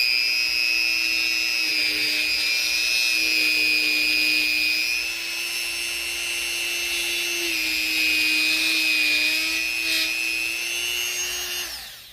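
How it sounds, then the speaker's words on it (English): A power drill bores a small hole through a Saami-style knife sheath, its motor holding a steady high whine for about twelve seconds before winding down near the end, with no talk. "drill a little hole"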